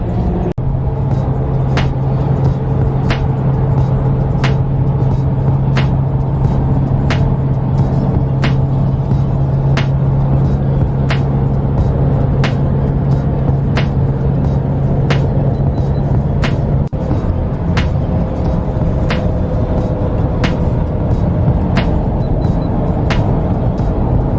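Steady engine drone and road rumble inside a moving car, constant and fairly loud throughout, with faint regular clicks and no talk.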